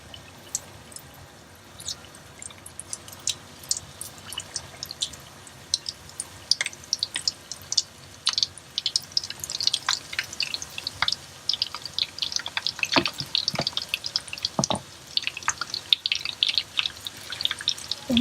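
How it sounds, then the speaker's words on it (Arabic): Chicken pieces drop into plenty of hot oil and crackle, with sharp sputtering pops that start sparse and then grow dense and lively over a faint background, and nobody speaks. "هنا خليت زيت هواي بالطاولة وصار حامي. هسه راح ابدي انزل بقطع الدجاج."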